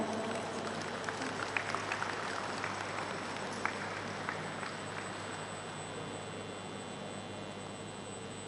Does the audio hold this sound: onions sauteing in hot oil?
no